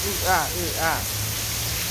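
Rain keeps up a steady hiss while a voice sounds twice briefly over it near the start, the downpour carrying on evenly underneath.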